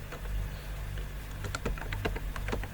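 Fingers tap out a web address on a computer keyboard in a quick, irregular run of light keystrokes, close and quiet, with no one talking.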